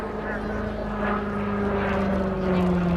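A FI-17 light propeller aircraft flies an airshow display, its steady droning engine and propeller shifting slightly in pitch. A commentator talks over it throughout.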